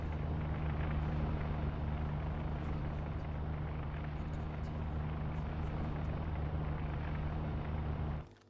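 An aircraft overhead in a U-Boat submarine video game, a steady droning engine hum with a constant low tone that holds evenly for several seconds before cutting off abruptly near the end.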